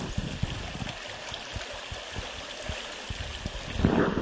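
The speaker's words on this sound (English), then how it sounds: "we can listen to the wonderful sound of the creek" Rock Creek flows beneath a metal culvert with a steady trickling, gurgling rush, punctuated by faint splashes and drips and a slight swell in the water noise near the end.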